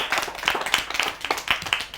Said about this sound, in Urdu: اس کے لیے بھی تالیاں بجائیں ذرا اس کے جوش کے لیے